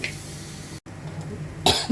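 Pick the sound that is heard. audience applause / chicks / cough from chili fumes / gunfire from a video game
cough from chili fumes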